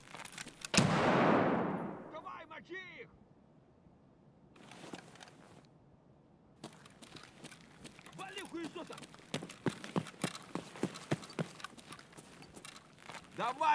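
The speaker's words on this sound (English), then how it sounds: "What's going on here? Who's doing this shooting?" Gunfire in Escape From Tarkov, with a loud nearby blast at the start followed by scattered distant cracks and rapid shots spread across the clip, under occasional talk.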